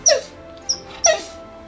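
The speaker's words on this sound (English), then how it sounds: "and then Baylor starts barking because you just ran off the table" A dog gives three short, sharp barks in close succession near a tabletop miniature wargame, loud and close with brief pauses between them.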